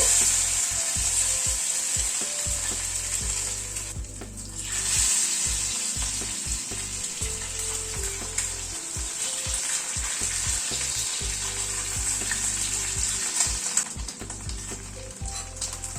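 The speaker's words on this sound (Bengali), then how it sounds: "ডিমগুলো এর মধ্যে ডিপ করে একটু ভেজে নেব।" Batter-dipped eggs, coated in cornflour, salt and pepper, frying in hot oil with a loud, steady sizzle that continues throughout, with occasional stirring or low thumps underneath.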